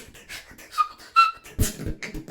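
A beatboxer voices a short whistle imitation: thin, bright pitched tones in brief bursts, close to the microphone, mixed with breathy vocal noises.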